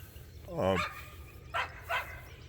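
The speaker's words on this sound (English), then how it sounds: "Dog barking in the background." A dog on a farm barks a few times nearby, one longer bark followed by two shorter ones, over quiet background.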